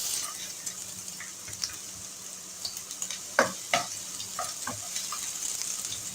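Finely chopped garlic fries in hot olive oil in a pot, giving a soft, steady sizzle with scattered crackles and a few sharper pops, quiet and close, with no talking.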